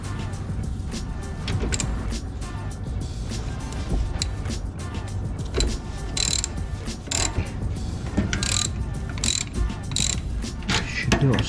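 A ratchet tightening a nut and bolt on a Vauxhall Vivaro subframe, repeated clicking pawl strokes in uneven bursts, close and clear, with faint clanks and occasional background voices.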